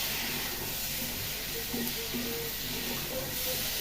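Water poured into a hot pan of local tomatoes gives a loud, steady steaming hiss and sizzle that holds for a few seconds, with faint low kitchen noise underneath.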